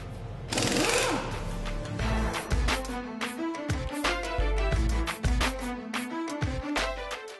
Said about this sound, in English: now he's going to remove the wheel, so we have access to the brake drum